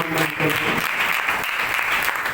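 A worship-service congregation claps together in loud, dense applause that carries on steadily for a couple of seconds, with a voice briefly audible at the start.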